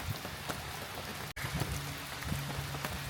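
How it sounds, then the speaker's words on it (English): Heavy rain falls steadily, a dense, even hiss of drops on surfaces close by in a botanic garden, with no voices. "It's heavily raining."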